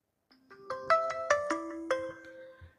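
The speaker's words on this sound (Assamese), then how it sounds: "মোৰ ফোনবিলাক বৰ বাজি থাকে নহয়, বৰ সমস্যা হৈ যায়।" A mobile phone ringtone plays alone at moderate loudness, a bright melodic sequence of electronic tones rising and falling in quick notes for a few seconds.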